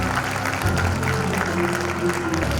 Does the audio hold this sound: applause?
yes